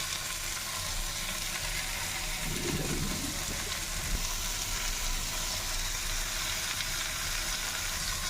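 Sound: capsicum frying in a pan

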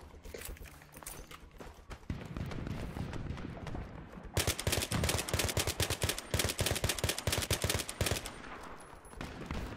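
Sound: gunfire in video game Battlefield 3

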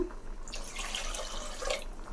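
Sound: water poured into mashed cooked toor dal

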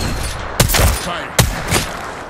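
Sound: gunfire aimed at the player in a video game

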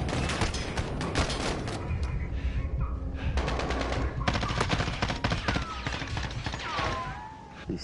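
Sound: machine gun gunfire in the video game Modern Warfare

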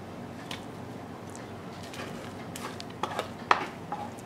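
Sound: pot being handled while making polenta

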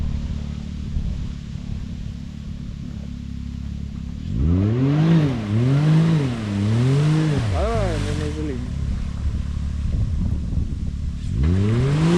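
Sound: BRP Maverick X3 off-road vehicle revving

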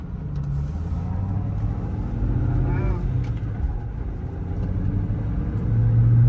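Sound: 1996 Ford Mustang SVT Cobra engine while driving

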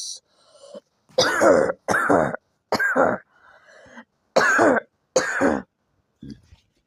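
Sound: cough and throat clearing in cartoon

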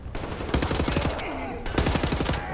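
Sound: gunfire in video game Wolfenstein: The New Order

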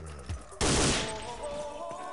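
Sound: machine gun firing from a rooftop in a video game

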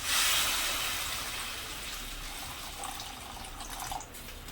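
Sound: water being poured into a pot

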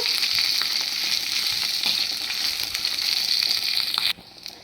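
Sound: frying dried chillies, coriander seeds, cumin and curry leaves in a pan

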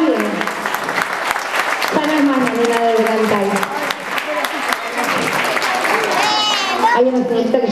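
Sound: audience applause

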